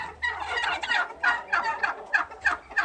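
Domestic turkeys on a home farm give a run of close, repeated gobbling calls in uneven bursts with short gaps, fairly loud and alone with no talk.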